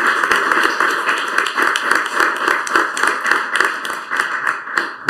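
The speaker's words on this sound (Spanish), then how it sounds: "os pediría un aplauso para nuestros ponentes." A seminar audience applauds the speakers, with individual hand claps distinct and rhythmic in a modest room, steady for several seconds.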